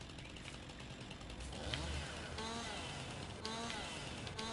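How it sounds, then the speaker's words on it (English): A chainsaw in Farming Simulator 19 cuts tree branches, giving a faint, intermittent engine buzz that swells and drops over a steady mechanical background. "And apparently the chainsaw will automatically cut the branches."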